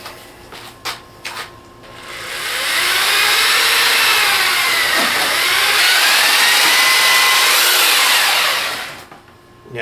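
Power mixer churning concrete patching compound for a driveway repair, a loud steady motor whine with gritty churning that runs continuously for most of the span after a few brief knocks at the start, then stops.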